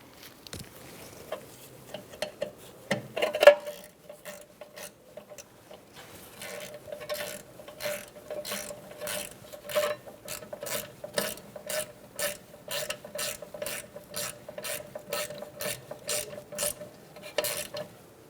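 A ratchet wrench tightens a brake caliper bolt on a 2012-2018 Ford Focus during rear brake hose replacement: a few slow clicks, then a long, steady run of close, crisp ratcheting clicks with no speech.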